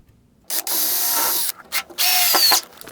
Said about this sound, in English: Remove the clamp and drill another one.